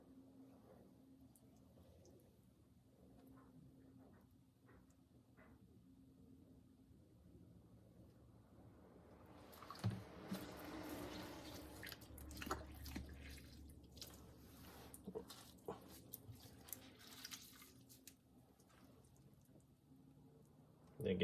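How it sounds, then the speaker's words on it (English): A sponge on a stick soaks leftover water out of the bottom of a freshly thrown clay lidded jar, giving soft wet dabbing and squelching with faint drips, starting after a quiet stretch and continuing in irregular close bursts. "Sponge on a stick to get the water out."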